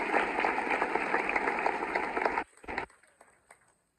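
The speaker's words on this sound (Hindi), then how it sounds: "एक बार जोरदार तालियां" Loud audience applause at a bar association's 125th anniversary celebration at the High Court in Lucknow, a dense burst of clapping that cuts off abruptly with a few scattered claps trailing into quiet.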